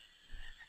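A single frog croaks once, low and brief, in a marsh area of Final Fantasy IX, set against a faint steady ambient hum.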